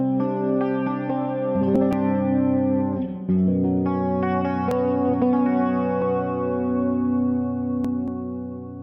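Electric guitar played through a BogSV clean amp model on a Valeton GP200 multi-effects unit, sustained chords ringing with a chorus-like shimmer, a brief dip near three seconds, then strumming again, steady and close.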